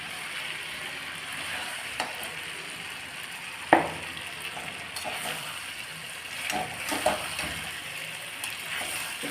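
Fried potatoes go into a sizzling spice masala in a pan, a steady frying hiss with occasional stirring scrapes and a sharp clack just before four seconds.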